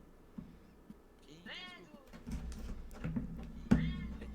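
A cat meows in the World of Warcraft video game, two rising-and-falling game cries over a low background, while players chat in voice.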